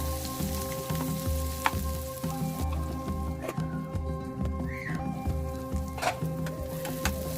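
Brinjal pieces with turmeric cooking in a covered pan, a steady moderate sizzle with soft bubbling beneath a constant low background hum and a few sharp clicks.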